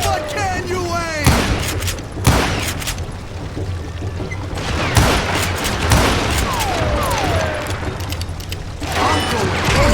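Gunshots in the western shooter Call of Juarez Gunslinger ring out as sharp, loud cracks spaced a few seconds apart, over a busy backdrop of in-game voices and rumbling action.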